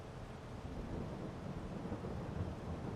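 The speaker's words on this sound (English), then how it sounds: "Rain's coming." Thunder rumbles with rain in the Farming Simulator 22 video game, a low, steady, rolling roar with a soft wash of rainfall, quiet and continuous throughout.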